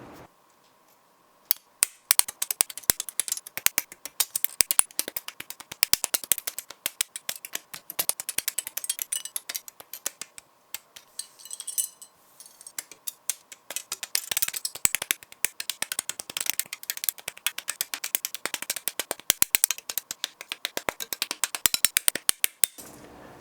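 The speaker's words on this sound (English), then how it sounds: "you're going to have to extract the parts from the runner" Plastic Gunpla model parts are snipped from the runner with nippers in a long run of sharp, close clicks and snaps, rapid and irregular, with brief pauses between clusters, no voices present.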